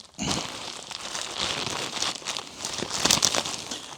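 New headliner fabric for a 2010 Jaguar XF being unpacked, with close crinkling and crumpling in irregular bursts, louder near the end, and no voices.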